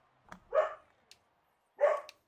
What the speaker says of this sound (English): my dog is going crazy downstairs